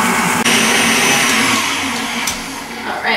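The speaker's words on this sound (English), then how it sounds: "Creaming just means we're gonna beat the crap out of it until it's nice and fluffy." Electric mixer creaming softened butter and sugar, a loud close continuous motor whir with a rough beating texture, steady and without talk.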